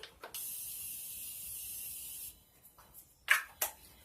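Morphe setting spray is misted onto a made-up face in one long close hiss of about two seconds, followed by two short faint spritzes after a pause.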